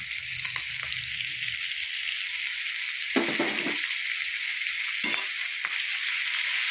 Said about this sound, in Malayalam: നമുക്ക് കുറച്ച് കടുകും വറുത്ത് ഒഴിച്ച് കൊടുക്കാം.